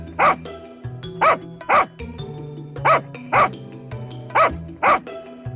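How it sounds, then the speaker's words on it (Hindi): Village stray dogs chasing another dog, barking in sharp single woofs spaced roughly a second apart, fairly close, over a soft background hum. "गांव के आवारा कुत्ते भी उस कुत्ते के पीछे भागते हैं।"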